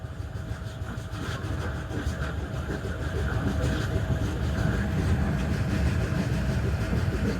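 A train draws into Sahiwal station with a steady, loud rumble of wheels and carriage noise, a continuous low roar that swells slightly toward the end, with no voices.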